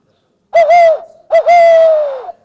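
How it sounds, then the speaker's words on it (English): An owl hoots twice, each call a loud, clear, wavering hoot that trails off, with a short pause between the two calls, set against otherwise quiet surroundings during a conflict-resolution training session. "I'm glad you all like that owl so much."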